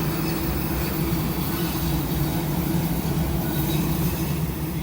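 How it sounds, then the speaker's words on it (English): DART light rail train passing by in Dallas, Texas, a steady, loud rumble and roar of the railcars close at hand, holding evenly throughout with no voices. "Come on by, little D.A.R.T train."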